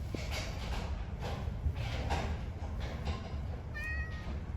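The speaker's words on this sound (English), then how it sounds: "Hey, kitty, I don't have any cat food for you." A cat meows once briefly, a short clear cry late in the moment, over a constant low background rumble with faint intermittent clatter.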